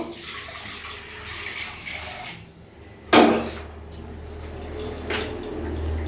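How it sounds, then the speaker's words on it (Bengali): Hot water pours steadily into a kadai (wok) on a gas stove while mutton curry is being cooked, with a loud metallic clank partway through and continuous close splashing throughout. "গরম জলটা আমি কড়াইতে দিয়ে দেবো"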